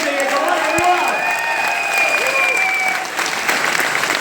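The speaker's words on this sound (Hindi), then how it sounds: "एक बार जोरदार तालियां होनी चाहिए" A crowd claps loudly and continuously at a business summit event in Goa, with some cheering and voices mixed into the applause.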